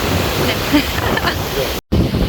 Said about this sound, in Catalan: Ai, que se m'aporta el vent!